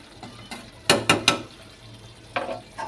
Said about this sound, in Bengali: এটাকে ভালো করে কষাতে হবে তো, তাই একটু পর পর নেড়ে দিই আর ঢেকে দিই।